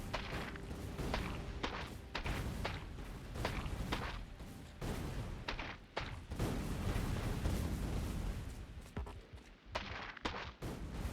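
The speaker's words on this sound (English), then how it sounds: "these trees explode when you cut them down" Trees blowing apart as they are chopped down in the video game Factorio on the Gleba planet, giving a dense, continuous run of loud booming blasts and thuds packed closely together throughout, with no talking.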